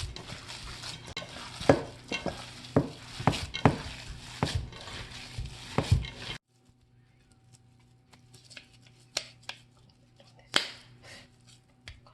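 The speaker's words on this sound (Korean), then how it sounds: "빵가루를 조금 더 넣고 반죽하고 있습니다." Wet, squishy mixing sounds as a Hamburg steak meat mixture with breadcrumbs is kneaded and squeezed by hand, close up, then quieter occasional pats and clicks.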